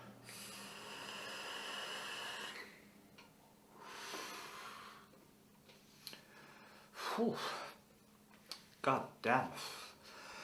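Heavy breathing after vaping through a dual-airflow rebuildable dripper, with long hissing exhales and drawn inhales followed by sharp gasping, snorting breaths close to the mic, and a brief muttered word.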